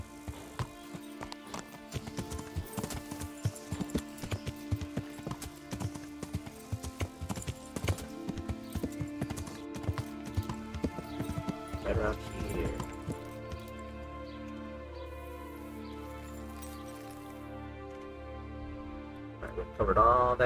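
Hooves clip-clop in a steady, uneven patter as a horse moves in the medieval video game Kingdom Come: Deliverance, fairly quiet and continuous over a long stretch, with a brief whinny toward the end.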